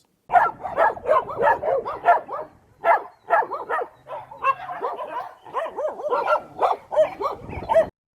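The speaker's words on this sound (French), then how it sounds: "Nous sommes accueillis par un concert d'aboiement." Several dogs bark and yip in a rapid, overlapping chorus, close by and loud, with a short whine partway through.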